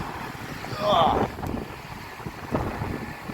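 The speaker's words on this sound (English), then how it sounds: "wind's definitely picking up" Strong gusts from Storm Eunice buffet the microphone in a low, rumbling roar that swells briefly around the first second. Faint voices are heard beneath it.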